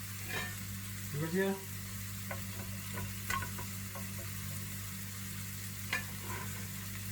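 Carrots frying in a sauté pan over lowered heat, with a steady sizzle and occasional stirring clinks and scrapes; a voice speaks briefly.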